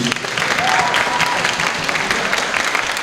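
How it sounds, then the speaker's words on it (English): Steady applause from a room full of people at a student award ceremony, dense clapping that stays even throughout with a few faint voices mixed in. "So a round of applause for Erica, please."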